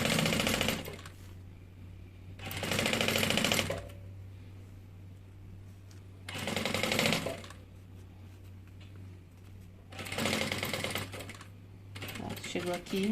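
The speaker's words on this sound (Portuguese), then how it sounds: "a gente vai costurar primeiro o canal do zíper" A sewing machine stitches the zipper channel of a bag in four loud bursts of rapid stitching, separated by quieter pauses with a low steady hum.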